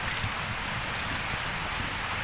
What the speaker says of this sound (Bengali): আজ আবার বৃষ্টি শুরু হয়ে গেল।